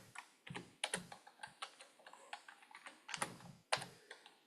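Rapid, close clicking of computer keys typing a short word, a quick series of crisp taps in uneven clusters with brief gaps, quiet and with no voice over it.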